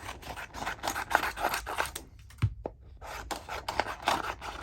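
Scissors snip through paper while trimming a piece for a journal, giving close, quiet, repeated cutting strokes with a short pause in the middle.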